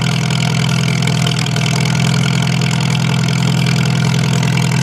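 Farmall tractor engine with a frozen transmission, running loud and close at a steady low idle drone as the clutch is let out, with no change in pace and no voices.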